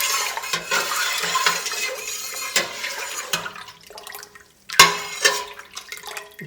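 Muscadine wine ingredients stirred and mixed in a container with a spoon, wet sloshing and clinking in uneven bursts, loudest near five seconds, with no talking.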